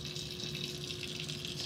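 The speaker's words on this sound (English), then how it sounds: "When we turn the water on, we get a suction effect." Tap water rushes through a vacuum filtration aspirator nozzle in a chemistry lab, giving a brief, faint, steady hiss with no pauses.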